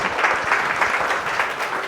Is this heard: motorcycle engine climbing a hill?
no